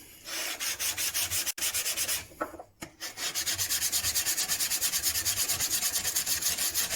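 A secateurs blade is being sharpened by hand, with a fast, rhythmic scraping of steel against a sharpening surface, close and steady, with a couple of brief pauses before the strokes resume.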